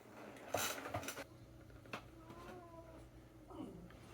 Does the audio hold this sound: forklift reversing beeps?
no